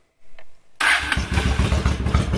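A motorcycle engine cranks briefly, then catches and fires up into a loud, rapid chugging idle close by.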